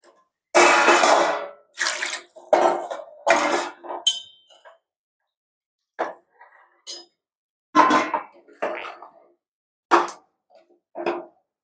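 Chicken pieces dropped back into a pot of sambar, a series of close splashes and clanks against the pot with pauses between, near and fairly loud.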